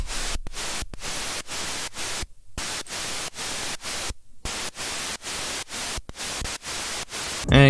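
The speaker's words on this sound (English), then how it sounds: "Then we're going to some white noise." Loud broadband white-noise hiss pulsing in a steady gated rhythm, cutting to silence in short regular gaps.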